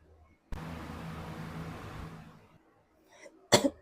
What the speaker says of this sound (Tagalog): May ubo pala ako, pasensya na kayo.